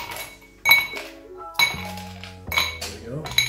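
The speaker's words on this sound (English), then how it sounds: "So we're gonna fill it up with some ice cubes." Ice cubes clatter into a cocktail glass as it is filled for a gin drink, with three or four distinct clinking bursts, close and crisp, and a voice talking lightly in between.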